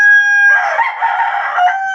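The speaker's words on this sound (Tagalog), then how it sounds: "Salbahe itong manok na to" A farm rooster gives a single loud, drawn-out crow lasting over a second, close by and alone against a quiet background with a faint steady tone.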